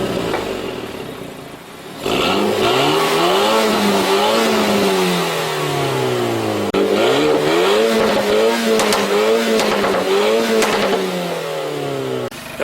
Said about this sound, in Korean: 가운데에 몰려있는 스포츠 배기는 그 사운드가 상당히 매력적이고요.